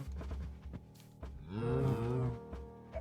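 Cows in the video game Minecraft give a single drawn-out moo, loud and close, over soft game background sounds.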